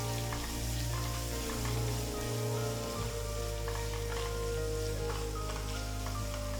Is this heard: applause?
no